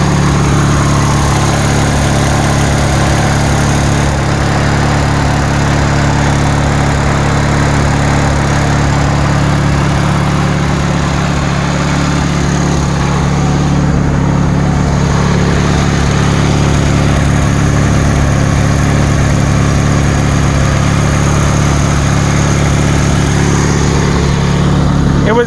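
A Wisconsin inline twin-cylinder engine on a Bolens Grounds Keeper tractor runs at a steady idle, a loud, continuous low drone close by with no break or change across the whole stretch and no talk.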